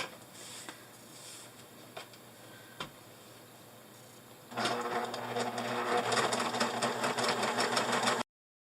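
A sewing machine stitches a seam on a fabric dog bandana, running steadily and fairly loud for about four seconds after a quiet stretch with a few faint clicks and taps.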